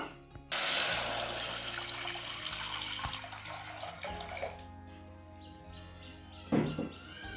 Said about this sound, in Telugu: తగినన్ని నీళ్ళు అయితే వేస్తాను